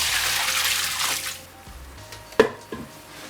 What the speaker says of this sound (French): Pendant ce temps-là, on va égoutter nos pâtes.